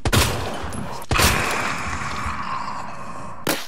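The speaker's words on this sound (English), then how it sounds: "it took 3 magnum shots, and a 4th one for good measure, to take down the liquor" Magnum revolver fired at a licker in Resident Evil 2, three loud heavy gunshots spaced over a few seconds, each with a booming echoing tail, plus faint creature sounds between.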